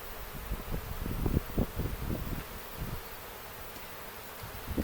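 A dense, continuous drone of honey bees circling open beehive supers, with bees flying close by in brief louder passes over the constant hum.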